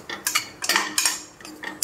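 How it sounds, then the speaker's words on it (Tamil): Boiled chickpeas being stirred in a pan for beach-style sundal masala, several sharp metallic scrapes and clanks of a spoon against the pan in quick irregular bursts, close up. "இப்போ வேக வச்சிருந்த கடலை அதோடு சேர்த்துடலாம்."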